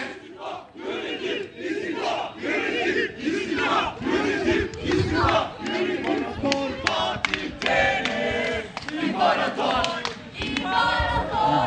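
Galatasaray football fans protesting at Florya, chanting for Fatih Terim in loud rhythmic unison, with the chant swelling and falling in repeated bursts and some clapping mixed in.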